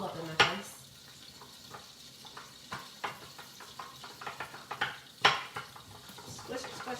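Avocado being mashed for a turkey spinach avocado burger, with repeated soft squishing strokes and light clinks of a utensil against a bowl, plus a couple of sharper knocks, close and fairly quiet.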